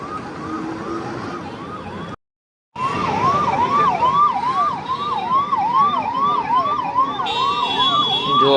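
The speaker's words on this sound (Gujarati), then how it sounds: "એમ્બ્યુલન્સ નહીં જવાની જગ્યા નહીં મળતી" An ambulance siren stuck in heavy highway traffic at a junction, wailing in fast repeated rising and falling sweeps, loud and close, with traffic rumble beneath and a short cut in the middle.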